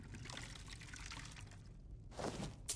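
Water poured as a refill in Skyrim Special Edition, a soft continuous trickling stream that is faint and close, ending with a brief splash.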